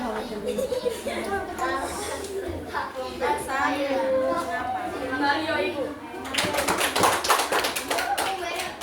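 A classroom of students claps for five classmates who have just presented, a burst of dense, fairly close applause in the last few seconds after a stretch of a teacher talking.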